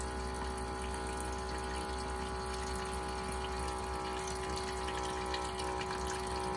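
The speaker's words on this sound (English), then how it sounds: "Fill up the sink a little bit." Water running from a tap into a small sink inside a van, a steady faint hiss and pump hum holding constant throughout with no talk.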